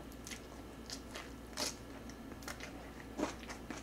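Someone eating kimchi, including green onion and chonggak radish kimchi, with mini gimbap; a few soft crunchy bites and moist chewing sounds close to the microphone, faint overall, with no talking.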